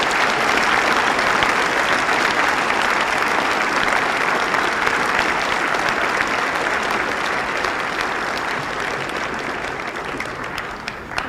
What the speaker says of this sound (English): Join me in giving them one last round of applause.